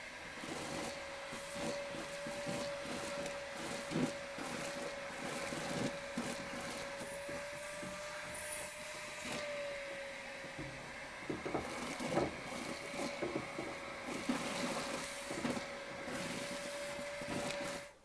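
A Milwaukee M18 FUEL 6-gallon cordless wet/dry vacuum with a 5/8 inch crevice attachment runs continuously, a steady whining motor tone with fluctuating airflow rustles as it sucks debris from tight crevices, moderately distant.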